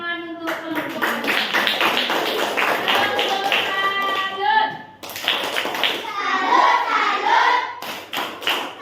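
Classroom group of students clapping for a presenting group, a dense run of hand claps with thumps and children's voices mixed in, a brief break midway, then renewed clapping.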